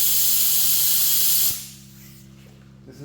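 A Spectrum HTE spray gun at about 20 psi, 1.3 tip, hisses loudly and steadily spraying paint, then cuts off abruptly, leaving a quiet low hum and a few faint clicks.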